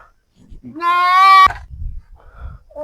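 A goat bleats once, a loud, close, wavering cry lasting about a second, followed by low murmuring voices in the background.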